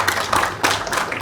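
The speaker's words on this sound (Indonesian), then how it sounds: "mungkin tepuk tangan untuk Wolves dulu" A small group of people claps hands in a short burst of sharp, uneven claps, close and fairly loud, lasting barely over a second.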